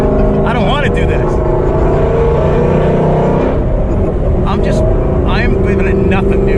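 An 800 rwhp Ford Mustang S550 street car accelerates hard, its engine a loud, steady roar that runs the whole way while people talk over it inside the car.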